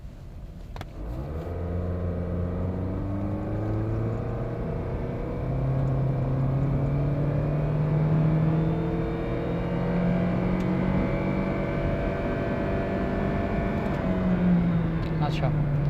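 A 2012 Toyota Auris hatchback with a CVT accelerates at full throttle, heard from inside the cabin as a steady engine drone whose pitch rises smoothly over several seconds.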